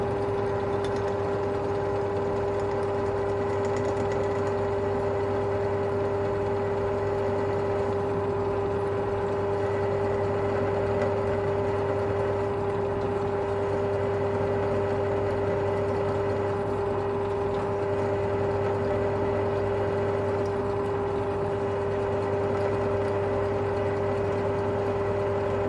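A repaired engine runs steadily at a constant speed, making a loud, even hum with a strong drone that lasts the whole time with no voices.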